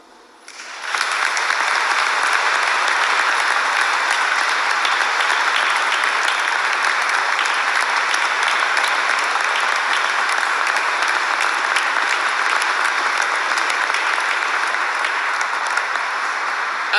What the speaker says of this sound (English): giving them a heartfelt round of applause